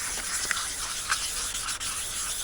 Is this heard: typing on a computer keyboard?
no